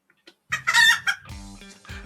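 A person's voice imitates a chicken's clucking and crowing: a few short, quiet hiccups, then a loud squawking burst and several broken, cackling calls, close up and alone on a sales podcast.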